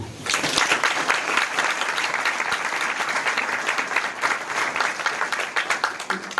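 A church congregation at a Sunday fellowship service claps together loudly and continuously, a dense roar of many hands that fills the room for several seconds and carries faint voices within it.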